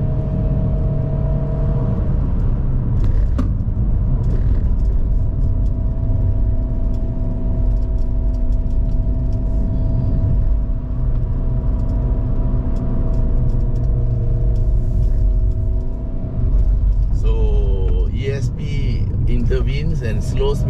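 A GAC GS3 B-segment SUV with a 1.5-litre naturally aspirated engine and 6-speed automatic climbing Genting hill, a steady low engine drone and road rumble heard from inside the cabin, with brief shifts in pitch near the end and someone talking over it.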